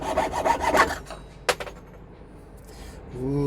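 A few quick rasping strokes of a hand saw cutting a metal jewelry bezel, close up, followed by a sharp click and a short pause.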